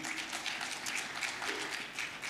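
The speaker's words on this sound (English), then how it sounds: "Let's give a round of applause." Clapping from an audience at a conference plenary session sounds as a modest, steady patter of hands. The applause is fairly quiet and even throughout its brief span.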